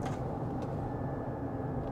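Inside a 2024 Chevrolet Silverado EV electric pickup on the move, a steady low rumble of tire and road noise fills the cabin, with a faint thin electric motor whine barely above it.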